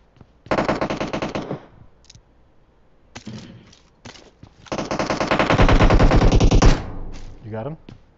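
Bursts of machine gun fire in the PUBG Mobile video game, two long rattling volleys with brief separate shots between, loud and close, while players talk.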